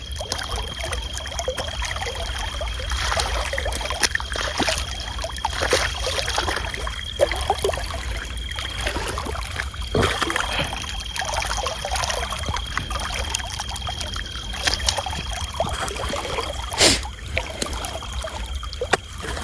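Irrigation water flows and trickles steadily through a farm field at night, a continuous close gurgling wash with occasional splashes and no clear talk.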